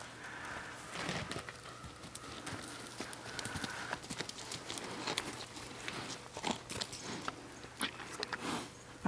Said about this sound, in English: my sister's new horse